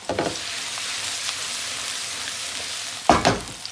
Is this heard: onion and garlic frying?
yes